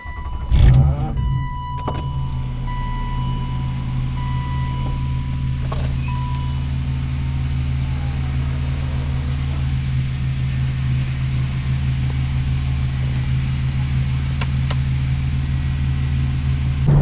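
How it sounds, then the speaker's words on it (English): A BMW E36 M3 engine idles and drones steadily inside the car, a constant low hum after a brief clunk at the start, with no talking over it. "While this car does sound like crap, it is actually so much fun to drive."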